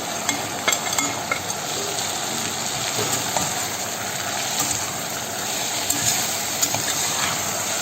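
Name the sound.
chopped tomatoes sauteing in a pan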